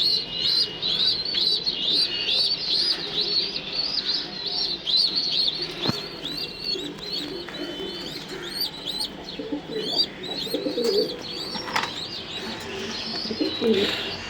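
Young pigeon chicks chirp in a steady stream of thin, high, repeated peeps close by, with soft cooing and a few rustles mixed in throughout.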